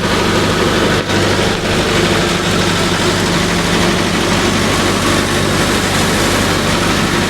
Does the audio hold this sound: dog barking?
no